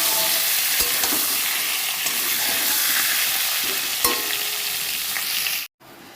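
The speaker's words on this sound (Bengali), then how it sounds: "পটলগুলো এক এক করে ছেড়ে দেব। আঁচ বাড়িয়ে ভেজে নেব।" Pointed gourd (potol) fries in hot oil over a raised flame, a loud, steady sizzle with a few clinks of a utensil, ending abruptly in silence near the end, with no speech.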